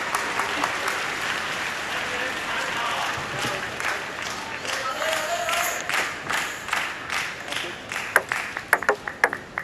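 An audience at the Paris Paralympics applauds in a big arena, with dense crowd clapping and cheering that rises and falls and ends in scattered sharp claps, while a commentator talks over it.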